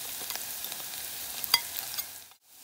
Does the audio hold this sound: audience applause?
no